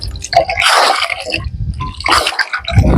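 Well water on farmland near Madurai splashes and sloshes close by in a few uneven bursts, with gulping, dripping and wet squishing sounds between short quiet gaps.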